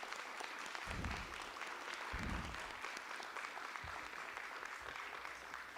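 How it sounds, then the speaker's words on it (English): Applause for award winners at a school board meeting, a continuous patter of clapping across a large room, quiet and somewhat distant, with a few low thumps mixed in. "If you'll join me again in giving these winners another round of applause."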